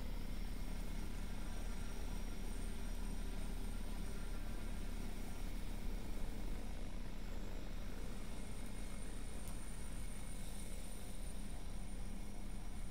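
An AW-139 London Air Ambulance helicopter flies in the X-Plane 11 flight simulator, its rotor and turbine blending into a constant, dense drone that holds steady for the whole stretch, with no voices.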